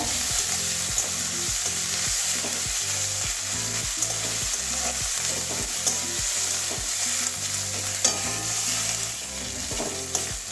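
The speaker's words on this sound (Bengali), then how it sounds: "এবারে আদা রসুন পেস্টটা দিয়ে দিচ্ছি একসঙ্গে পেস্ট করে নিয়েছি এটাও কাঁচা গন্ধ দেওয়া পর্যন্ত ভেজে নেব" Ginger garlic paste frying in a pan for an egg and potato curry with capsicum, loud continuous sizzle broken by a rhythmic series of spatula stirring scrapes throughout, no voices.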